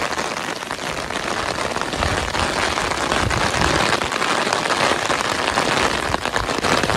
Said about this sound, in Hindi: छाते में कितनी आवाज कर रही है।